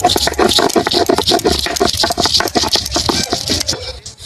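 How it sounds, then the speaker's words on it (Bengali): Fresh ginger being ground into paste by hand on a grinding stone, rapid rhythmic scraping and tapping strokes, close and fairly loud, with no voices. "এই আদাটা বেটে নিচ্ছি।"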